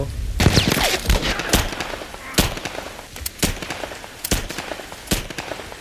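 Enemy machine gun fire in The Last of Us, heard as sharp, loud bursts and single cracks at irregular intervals across the whole stretch, with a faint reverberant tail between shots.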